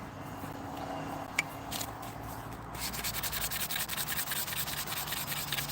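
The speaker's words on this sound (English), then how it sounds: "when I'm sanding down there" A wooden piece is sanded by hand with steady rubbing strokes, close and fairly quiet, growing into a denser, more rhythmic scratching in the second half.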